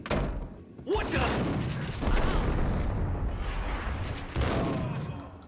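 Gunfire aimed at the player in the shooter game Max Payne, dense overlapping shots and heavy booms that fill the clip with loud, sustained noise.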